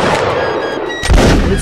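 A squad fires a musket volley in the Napoleonic Wars video game, a loud ragged burst of overlapping shots and booms after a moment of background noise, close and heavy.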